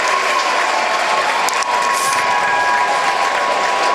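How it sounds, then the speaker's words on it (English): High school basketball crowd in a fieldhouse applauding loudly and steadily, a dense wash of clapping with some cheering mixed in. "Big round of applause, of course, by the Blue Devil fans, liking what they're seeing tonight at Macomb Fieldhouse."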